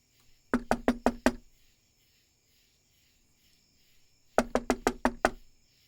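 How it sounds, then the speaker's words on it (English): Two sharp sets of five quick knocks rap on a house door, separated by a pause, with crickets chirping faintly in the quiet night behind. "I guess we should knock first?"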